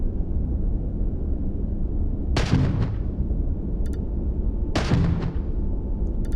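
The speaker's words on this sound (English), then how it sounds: "Particle turret." A particle turret firing in the video game Starfield: two separate heavy, booming blasts a couple of seconds apart, each trailing off in a short decay over a constant low background hum.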